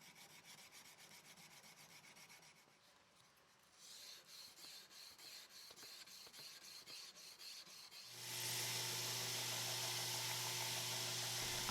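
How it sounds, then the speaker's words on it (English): Hardness-testing files rasp and skate along the edge of a Go Mai cleaver forged from 80CrV2 and 15N20 steel, giving quiet scraping strokes that grow steadier, then a louder broadband rasp toward the end. "This blade just barely skated a 60 Rockwell file, and the 65 Rockwell file easily dug in"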